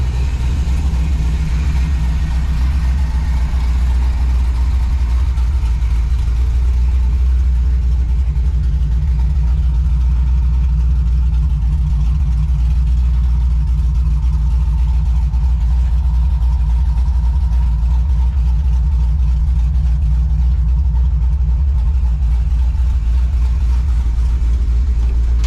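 A supercharged Chevrolet ZL1 engine idles as it warms up, a loud, steady low rumble that holds unbroken throughout with no voices.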